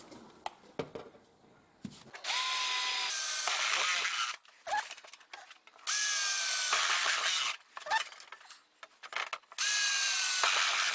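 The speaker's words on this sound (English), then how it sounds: "next step is drill these holes" A power drill whirs in several sustained bursts, pitch rising as it spins up, separated by pauses with clunks and handling noises, drilling holes for a pickup truck e-bike rack.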